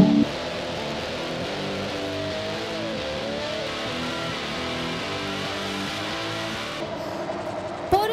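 Formula Nippon race cars at the start of the 2012 Round 3 final at Autopolis in Japan, a dense steady roar of many engines at high revs, with a louder rise near the end; a commentator speaks over it.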